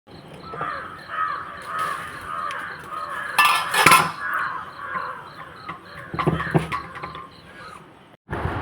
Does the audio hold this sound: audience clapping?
no